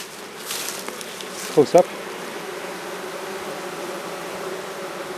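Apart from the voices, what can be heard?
honeybees buzzing around a beehive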